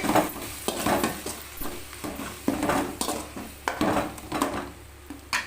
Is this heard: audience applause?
no